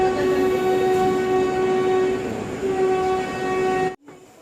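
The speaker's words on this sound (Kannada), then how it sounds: "ಆ ಟ್ರೈನ್ ಹೆಸರು ವಂದೇ ಭಾರತ್" Vande Bharat express train sounding a loud sustained horn as it rolls close by, the steady tone and rumble holding for about four seconds before cutting off abruptly into a quieter rumble.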